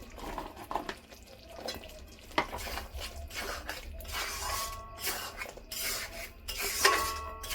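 Sizzling, scraping stir of drumstick pieces being tossed into frying masala in a pan while cooking a rohu fish curry; a steady close fry hiss runs throughout, broken by irregular spatula scrapes and crackles, with no talking.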